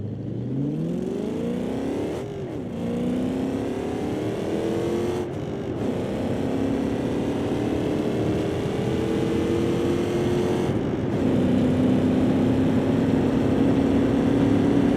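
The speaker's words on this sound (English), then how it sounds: "we just need to start this car up and start driving" Engine of a racing video game car played on a home sim rig with an H-shifter starts and revs steadily upward, its pitch climbing through several gear changes with brief dips between shifts, loud and continuous with no talk.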